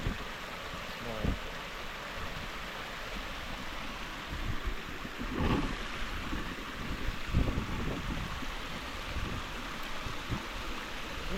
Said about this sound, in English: Let me show you this other small waterfall.